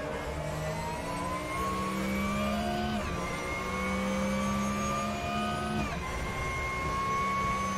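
Porsche 911 Supercup race car engines at Mid-Ohio howl steadily and loudly, their pitch climbing and dropping through gear changes as several cars pass, with no talk over them.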